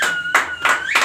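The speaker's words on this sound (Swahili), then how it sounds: "Pigia baba makofi mazuri." A church congregation applauds in a few loud, close bursts of clapping, with a thin sustained tone under them and no speech.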